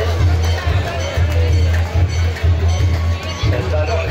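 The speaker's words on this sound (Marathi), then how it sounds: "जाम गर्दी झाली इथं पण." A dense crowd of pilgrims fills the temple grounds at Ujjain with steady murmuring babble and shuffling under a low droning hum, continuous and close throughout.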